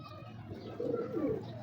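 A female pigeon of good pedigree, bought for 350 rupees, gives a short run of soft, throaty coos close by, swelling slightly toward the end.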